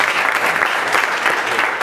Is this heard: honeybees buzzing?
no